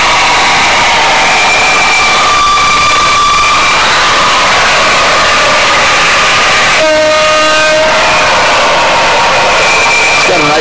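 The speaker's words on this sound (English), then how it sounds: "And he's got trains in his business office." A model train with an onboard sound system sounds its horn in a business office, loud steady rumble with sustained horn tones, the longest blast near the end; no one speaks.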